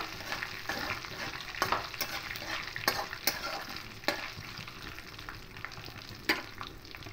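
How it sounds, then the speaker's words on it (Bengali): Whole spices and bay leaf fry in oil in a pan, a close, steady sizzle broken by repeated scraping stirs of a spoon against the metal, with no voices. "ফোড়নটা একটু ভাজা ভাজা হয়ে আসুক, এভাবে খুঁজে দিয়ে নাড়তে থাকবো।"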